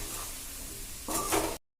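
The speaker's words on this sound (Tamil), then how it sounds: "ஸ்டவ் வந்துட்டு லோ ஃப்ளேமில் வச்சுட்டு நம்ம கேப்சிகம்மை குக் பண்ணிக்கலாம்" Capsicum sautés on a low flame in a pan, a soft continuous sizzle with a couple of louder scraping stirs near the end before cutting to silence.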